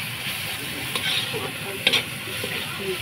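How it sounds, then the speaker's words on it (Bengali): Ginger and spices sautéing in a pan, a steady hiss and sizzle with a couple of brief stirring scrapes, close and moderately loud. "মশলা কষানো হয়ে গেছে।"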